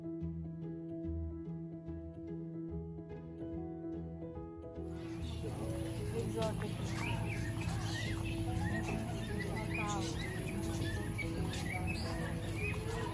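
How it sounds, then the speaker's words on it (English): Many small birds chirp and tweet in a zoo's bird section at a safari park, a dense busy chorus of calls rising over steady background noise after a quieter start. "moment we entered in this section of the birds, we saw so many different beautiful birds"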